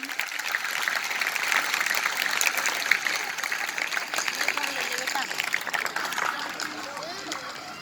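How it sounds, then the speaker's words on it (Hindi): Loud applause from a crowd at a school Republic Day (26 January) function, welcoming a guest onto the stage; steady dense clapping fills the whole stretch, with voices mixed in. "जोरदार तालियों से इनका स्वागत करें"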